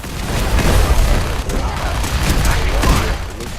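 Automated gun turrets firing in Fallout during a bunker battle, a dense, continuous barrage of booming shots and blasts, loud and close, with a voice talking over it.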